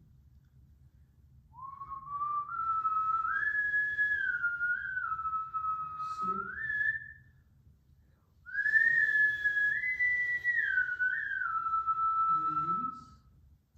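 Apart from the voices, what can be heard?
person whistling a song on the exhale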